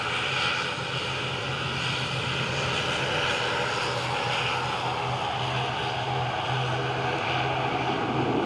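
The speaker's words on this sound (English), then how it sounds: "For such a small little plane, they certainly output a lot of noise." ATR turboprop airliner landing at Dublin Airport, a loud, steady engine and propeller roar with a low hum that holds evenly throughout, close by and with no talk over it.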